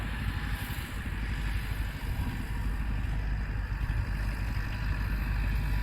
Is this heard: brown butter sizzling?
no